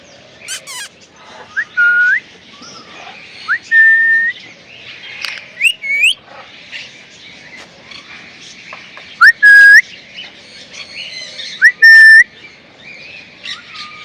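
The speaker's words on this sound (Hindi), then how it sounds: "मैं भी सीटी मार रहा हूँ तो ये भी सीटी मार रहा है।" Parrot at a zoo whistling back at a person whistling, with several short, loud, rising whistle notes scattered across the clip between quieter chirps and ambient noise.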